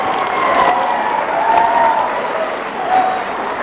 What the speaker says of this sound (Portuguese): eu gostaria de pedir uma salva de palmas para todas as mães do Brasil